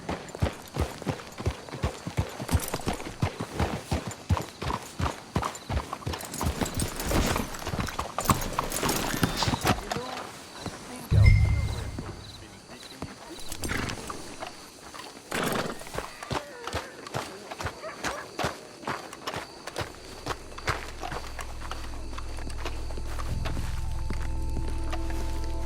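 Horses' hooves clip-clop steadily at a walking pace for a long stretch, with a brief heavy thud midway, in a Red Dead Redemption 2 soundscape.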